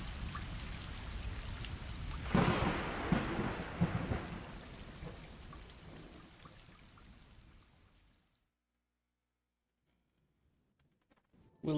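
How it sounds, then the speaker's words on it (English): A thunderstorm rolls through in the game Stray, with steady rain and a deep thunder rumble that swells, then slowly fades out into silence, ending with a brief faint noise. "I guess we're supposed to lay down and wait for the storm to end"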